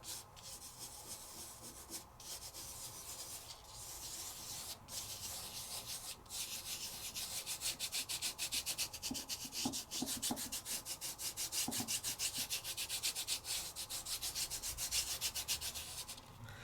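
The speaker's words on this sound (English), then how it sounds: "Give it a nice rub." A surface being rubbed by hand before heat embossing a card craft project, a steady scratchy rubbing that grows into fast rhythmic strokes in the second half, close and fairly quiet, with no speech.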